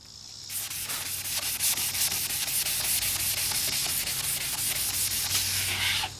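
Steady, close-up sanding of a cloudy plastic car headlight, a continuous gritty rubbing that keeps going for several seconds at an even, fairly loud level with no speech over it.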